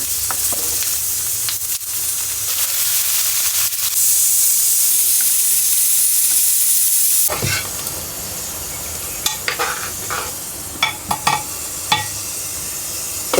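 Onions, green chillies and panch phoron sizzle loudly in hot oil, a dense steady hiss that drops to a quieter crackle about halfway through, with sharp clicks of stirring toward the end.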